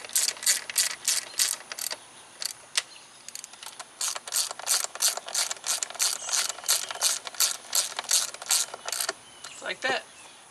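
A ratchet clicks in rapid bursts while snugging down spark plugs on a 2004 Pontiac Vibe, close and crisp, with short pauses between strokes and a brief handling noise at the end.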